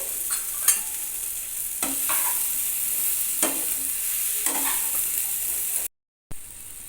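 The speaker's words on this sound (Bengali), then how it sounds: "এবার আলু দিয়ে সমস্ত মশলার সঙ্গে ভালো করে কষিয়ে নিতে হবে" Fried potato pieces stirred with spices in a pan, a continuous sizzle broken by repeated scraping strokes of a spatula every second or so, with a brief dropout near the end.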